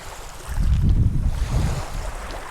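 Surf rolls onto a side-shore beach where many small boats sit, heard as soft, swelling low rumbles of waves with light wind noise, with no voices present.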